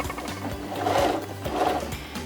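A sewing machine runs in rapid, rhythmic pulses while stitching the hem of a T-shirt bag over a basting stitch, its motor whirring with gentle swells in loudness, close and alone.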